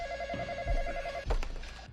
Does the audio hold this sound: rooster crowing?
no